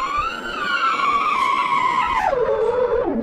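An ambulance skidding in BeamNG.drive, a long sustained tire squeal whose pitch slides gradually downward, loud and continuous, with a second drop near the end.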